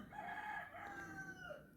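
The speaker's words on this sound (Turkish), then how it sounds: "Horozlar, tavuklar her türlü sesi duyabilirsiniz." Faint, distant crowing of a rooster with some clucking from hens, heard alone and drawn out over a couple of seconds.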